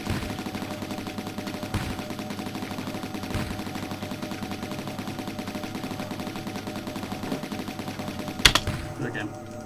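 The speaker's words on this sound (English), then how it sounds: "We'll shoot his arms off." Steady rapid gunfire from the player's ship in the Amiga shooter Banshee, a continuous rattling stream over game music with a brief louder burst near the end.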